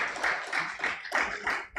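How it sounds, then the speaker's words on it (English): Scattered audience clapping at a business panel event in a conference hall, a thin, uneven patter of hand claps with rhythmic bursts rising and dipping over under two seconds. "Please do better with the applause, please."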